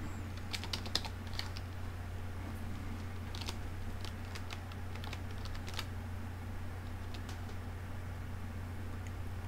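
Typing on a Logitech K400 Plus wireless keyboard: irregular bursts of key clicks, close and moderately quiet, over a steady low electrical hum, with no talking.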